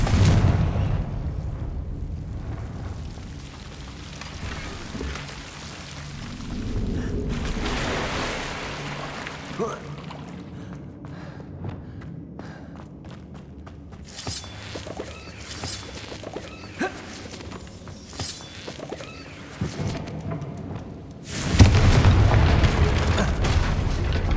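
Confringo spell explosions in the video game Hogwarts Legacy, several deep booming blasts that swell and fade between quieter stretches, with a loud final burst near the end and no voices.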